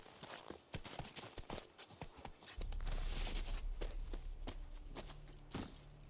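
Roach the horse's hooves clop along in The Witcher 3, a faint, uneven patter of hoof strikes that gives way to a lower rumbling ground and movement noise as the pace picks up.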